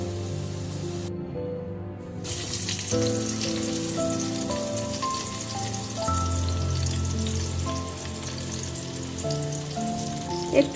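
Pointed gourd (potol) frying in oil crackles and sizzles steadily, like light rain on a surface, with soft background music and a short dropout near the start.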